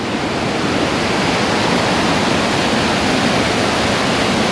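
Bald River Falls near Tellico Plains, Tennessee, pours in a loud, steady, broadband roar of falling water that stays constant throughout, with no voices over it.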